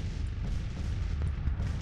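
Counter-battery artillery fire in a Grand Tactician Civil War battle: a thick, continuous rumble of distant cannon booms overlapping one another, with no voices.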